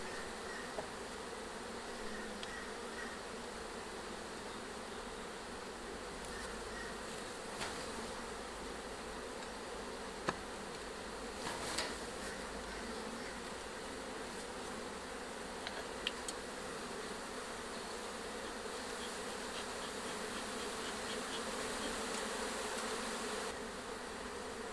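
Honeybees swarm around an open beehive during an inspection, a dense, constant buzzing hum that fills the whole stretch with no talking.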